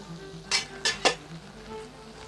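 Potatoes for aloo methi cook in a covered pan with a soft, steady sizzle, broken by three sharp clattering bursts close together.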